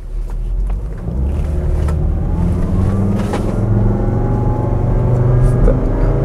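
A high-mileage Volvo XC90 2.5T pulls hard under full throttle on a straight road, with a steady droning engine rumble heard from inside the cabin that builds slowly and evenly.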